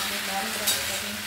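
Spice paste fried and stirred in a pan, a continuous close sizzle with a low hum underneath and a faint knock partway through, no talking.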